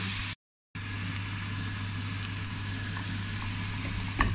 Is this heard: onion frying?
yes